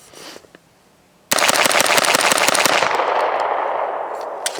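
A CMMG Guard 45 pistol loaded with hollow point rounds fires a fast string of about nine shots, loud and close after a brief quiet pause, then the echo rings and decays outdoors.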